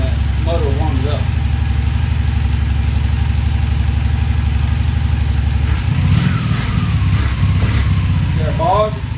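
A Honda Magna VF750C motorcycle fitted with a jet kit and larger fuel jets idles loud and close while warming up. Its steady low throb shifts and roughens briefly partway through.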